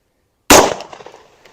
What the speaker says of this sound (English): I'm going to just shoot a couple of rounds just so that we get a quick average